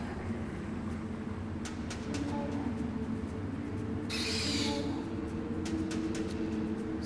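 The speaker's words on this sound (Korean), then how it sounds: "올빼미를 사용하도록 하겠습니다." An owl in the PS4 video game Far Cry Primal, heard in quiet in-game ambience with a brief, bright screech-like burst midway and faint clicks around it.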